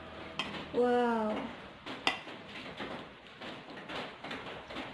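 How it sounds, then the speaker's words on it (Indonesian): Utensils stirring ketoprak on a plate: faint metallic clinks and soft scrapes at an irregular pace, with a woman briefly exclaiming over them. "Nah, saya mau aduk ya."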